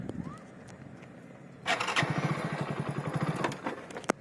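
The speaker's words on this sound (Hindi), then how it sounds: "अबे बाइक रुक गई।" A motorcycle engine starts and revs briefly with a rapid chugging idle, then cuts out and stalls, close by and fairly loud, with some faint background voices.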